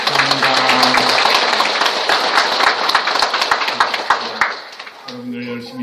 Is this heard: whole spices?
no